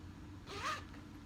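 A single quick zip on the front pocket of a Pine and Paddle drawstring bag, fairly soft and close, in an otherwise quiet room.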